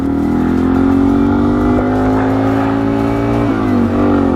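A Yamaha TW200 motorcycle fitted with an FMF hybrid exhaust drones loudly and steadily close by, with a brief dip and blip in engine speed near the end.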